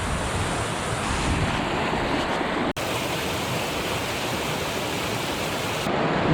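A waterfall near Loch Arkaig in the Scottish Highlands rushes with a steady, dense roar of falling water, close and constant, broken only by one brief dropout partway through.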